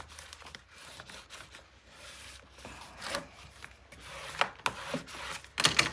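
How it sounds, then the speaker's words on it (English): Paper being burnished by hand in a scrapbook mini album, a series of soft rubbing, scraping and crinkling strokes of varying loudness, close up and without speech. "Oh, I need to burnish."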